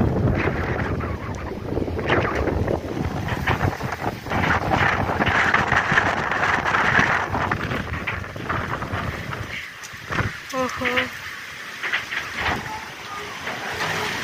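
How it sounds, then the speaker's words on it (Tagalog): Strong gusting wind during rain roars against the microphone, loud and buffeting, easing briefly before surging again, with faint voices in the background. "Tignan nyo yung hangin. Grabe, sobrang lakas."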